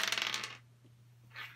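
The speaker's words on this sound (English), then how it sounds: "Let's roll 5 and play Yahtzee, see what I can get." Five dice rolled for a game of Yahtzee, a close burst of rapid clattering that stops, then a brief softer rattle as they settle.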